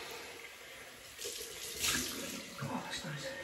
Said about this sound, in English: Rinse with cold water.